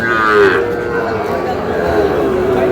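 Cattle, including young bulls and heifer calves, low and moo amid the dense murmur of a busy livestock market in Tangail, Bangladesh, one loud bellow near the start over steady crowd noise.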